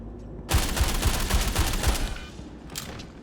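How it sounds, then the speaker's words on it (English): A KillShot assault rifle fires in Star Citizen at a heavily armoured target about 20 meters away: a loud, fast string of roughly six sharp shots over two seconds, followed by a trailing echo and a faint later blast. "when I'm shooting Gaporo with the KillShot Assault Rifle"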